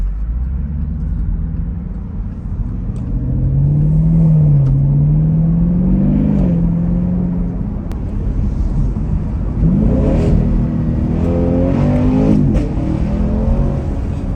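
A rebuilt Chevrolet Camaro SS 1LE driving on a wet street, its engine a loud, steady close rumble that rises and falls as it accelerates and shifts, with no talk over it.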